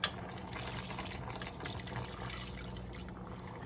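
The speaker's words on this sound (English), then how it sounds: "at this point, what you want to do, you want to add enough water in here" Water pours steadily into a pot holding chicken and vegetables for a Jamaican brown stew, a continuous splashing wash that runs for a few seconds with no voices.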